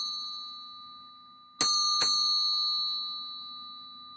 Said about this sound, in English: So I'll just ring this bell, just to bring you back into your body.